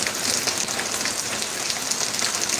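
Heavy rain pours down steadily, a dense close hiss of drops drumming on surfaces with no voices over it.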